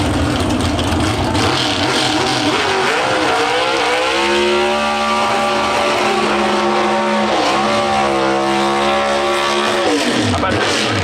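A Pro Stock drag car at the NHRA Route 66 Nationals in Chicago does a burnout, its engine screaming loudly with rising and falling revs and tire roar, commentators talking underneath.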